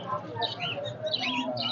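Pigeons and other birds at a large pigeon market in Khalishpur, Nayabati, give off scattered chirps and calls in a busy mix, with a low crowd murmur and faint talk underneath.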